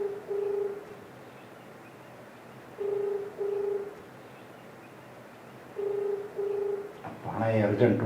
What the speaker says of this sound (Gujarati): ભાણાએ અર્જન્ટ રૂપિયા ગોતવાનું કીધું છે, એટલે ફોન કરવા જોઈએ.